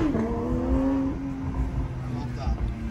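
Singer-modified Porsche engine on a Malibu canyon road, a loud close rev that drops in pitch then holds a steady drone, with road and wind noise underneath.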